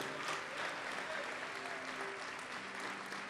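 Congregation applauding in a church, a dense, steady wash of clapping hands filling the whole span at even loudness with no break.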